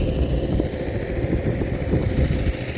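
A tractor engine drones steadily while ploughing a large farm field at Dapoli, a close, even mid-low rumble with no voices over it.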